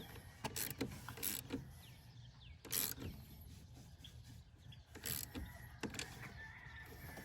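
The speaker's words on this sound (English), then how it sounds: "I'm gonna tighten the terminal down" Metal wrench clicks and ratcheting on a car battery terminal as it is tightened, several short bursts spread across the clip against a quiet, steady background.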